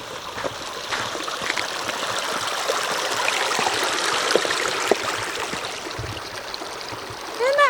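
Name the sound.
creek flowing in Fish Canyon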